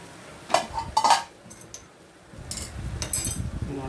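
A spoon clinks against a pan or bowl while curd is mixed into boneless gongura chicken, giving a few sharp metallic taps early on and then softer scraping and stirring.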